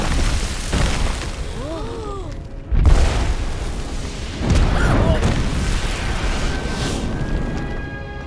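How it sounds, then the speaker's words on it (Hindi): Firecrackers going off in a Peter Rabbit cartoon: a few sharp booming bursts with cartoon sound effects in between, loud and close, over animated chatter. "तुम पटाखे इस्तेमाल कर रहे हो?"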